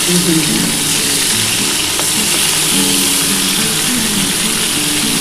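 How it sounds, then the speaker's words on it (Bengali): Prawns sizzle lightly in hot oil, a steady, dense frying hiss that runs unbroken throughout, with a low background hum beneath it. "চিংড়ি মাছ কিন্তু খুব বেশি ভাজবো না আমি একটু হালকা করে ভেজে নিচ্ছি"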